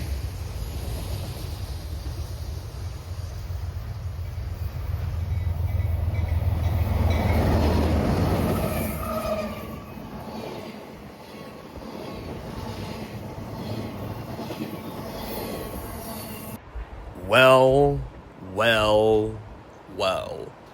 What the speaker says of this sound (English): You see that frac sand train just ended, and here comes the end of the stack train.